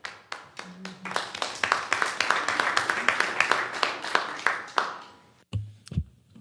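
Audience applause breaking out after a youth representative's speech at a conference on youth mainstreaming and conflict prevention: a steady crowd of clapping hands, fairly close and sustained for several seconds, then stopping abruptly with a few low thumps afterward.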